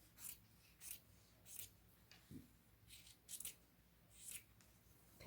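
Scissors snipping through thrift store fabric, with short separate cuts arriving every second or so, close but quiet in an otherwise hushed room, with no talking.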